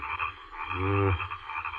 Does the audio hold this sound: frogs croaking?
yes